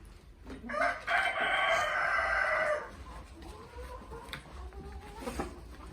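Desi chickens on a Punjab farm: a loud rooster crow rings out close by for about two seconds, followed by softer clucking and scattered fowl calls with no one talking.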